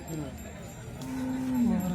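A single long, low moo from a bull swells up in the second half over a murmur of background noise at the Pusad bullock market in Maharashtra.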